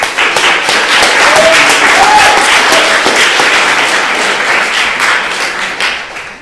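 Loud, sustained applause from deputies in a mock French parliamentary debate between Sorbonne and Aix-Marseille university students, dense clapping with a few faint voices, fading slightly at the end.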